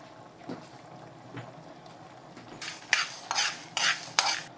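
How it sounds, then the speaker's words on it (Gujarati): Dry spices being roasted in a pan over a gas flame, heard as soft scraping stirs followed by several louder rhythmic scrapes of a spoon against the pan, close and clear with no talking. "આટલા મસાલા પહેલાં શેકી લેવાના છે નાખવા માટે ધીમે ધીમે ગેસ ઉપર"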